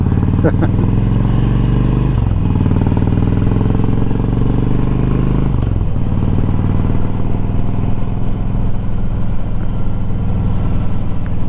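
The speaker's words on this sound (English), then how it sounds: "the old Frankeglide's running good this morning" A motorcycle engine with leaking rocker boxes runs loud and close, holding a steady deep drone that dips briefly twice as the revs shift, with no other sound over it.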